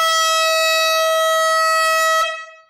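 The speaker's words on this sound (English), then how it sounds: "Oh, the sweet sound of the air horn." One long, loud air horn blast holds a steady, brassy tone for about two seconds, then cuts off and echoes away.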